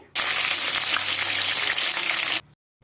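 Cumin, curry leaves and green chilies hit hot oil with a loud, steady hiss that runs for about two seconds, then cuts off abruptly; no voices.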